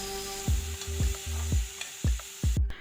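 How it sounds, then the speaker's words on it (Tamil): Onions and chopped medium tomatoes sauté in an oiled pan for crab curry, with a steady sizzle and about six rhythmic scrapes of a spoon stirring, close and clear, no voices. "பார்த்திங்கன்னா மீடியம் சைஸ் தக்காளி 2 தக்காளி எடுத்து கட் பண்ணி இதில் நான் சேர்த்து நல்லா வதக்கிக்க போகிறேன்."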